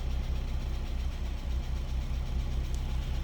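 A 1992 Mazda MX-5 Miata engine runs, heard from behind the car as a steady low, pulsing hum at moderate level with a little outdoor noise and no speech.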